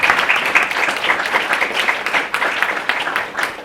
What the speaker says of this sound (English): I just want to give Larry a round of applause on the board of directors.